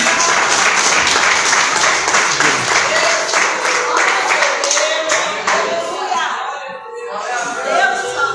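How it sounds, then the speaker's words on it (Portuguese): A church congregation claps together during a live worship service, steady broadband applause that stays loud and then thins out toward the end, with a few voices mixed in. "Aplaude, irmão Jesus."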